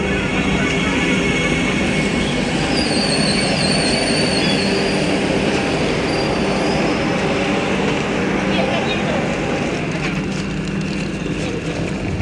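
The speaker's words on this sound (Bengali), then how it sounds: "অবশেষে আমাদের ট্রেন ছেড়েছে।" A passenger train pulls out on a trip to Baleshwar, a loud continuous rumble of rolling wheels and carriages with faint squeals, heard from inside among travellers, with indistinct voices mixed in.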